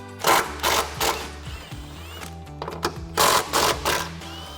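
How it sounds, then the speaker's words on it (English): Cordless impact wrench with a 13 mm socket spinning off strut nuts on a 2012-2019 rear-wheel-drive Dodge Challenger, several close, loud rattling bursts separated by short pauses. "We're gonna grab our impact with our 13 millimeter socket and take our 3 nuts off."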